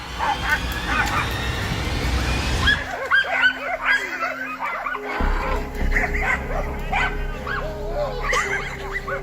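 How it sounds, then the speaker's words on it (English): Hunting dogs bark, yip and whimper while chasing a hog through the woods, the calls coming in irregular bursts at a moderate distance over rustling and background noise. "As the dogs continue to chase the hog, it runs into a guy struggling to hold on to a tree."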